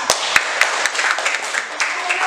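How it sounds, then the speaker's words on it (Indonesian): A small group claps for Mbak Atifa at a teacher-training session, a brief patter of scattered handclaps with a few sharper individual claps, fairly close and not very loud. "Beri tepuk tangan untuk Mbak Atifa."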